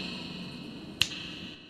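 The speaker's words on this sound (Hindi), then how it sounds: "चुटकी बजाती है" A single sharp finger snap, crisp and close, standing out once against a quiet, faintly humming indoor background.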